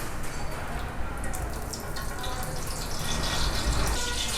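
Ghee, 200 ml, being poured into a cooking pot after groundnut oil for Arabian chicken mandhi biryani, a steady close liquid pour and sizzle filling the whole stretch with no talk.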